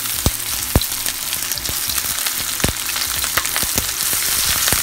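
Oil sizzles steadily in a wok on a stove, a dense crackling hiss with sharp pops throughout, heard close up with no talking.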